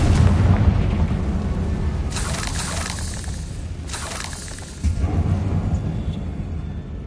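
A fiery Confringo spell exploding in Hogwarts Legacy: two bright, crackling blasts in quick succession over a steady low game rumble, then a quieter tail.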